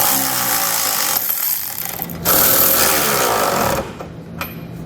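19mm socket on a ratchet snugging up the flange nuts of a Curt trailer hitch receiver on a 2019 Jeep Compass, a dense, close run of rapid clicking and rattling that swells loudest midway and then eases off.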